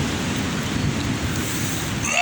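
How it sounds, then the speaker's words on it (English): Rain falls heavily outdoors under a severe thunderstorm warning, a dense, continuous wash of noise that is fairly loud throughout. "It's starting to rain now."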